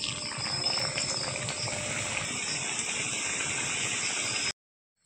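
Pieces of madan bhaja, a Bengali fried sweet snack, frying in hot oil, giving a steady, dense hiss and sizzle that holds at an even level for about four and a half seconds and then stops abruptly.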